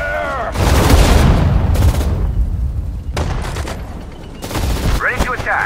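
Battle noise from the Sudden Strike 4 war game, with dense, loud bursts of gunfire and heavy artillery booms rolling together in overlapping waves, plus brief voice-like calls at the start and end.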